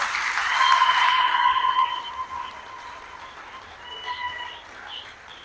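Congregation at a Sunday Mass clapping in acclamation of the Lord, a dense burst of applause that swells loud for about two seconds, then fades into lighter scattered clapping.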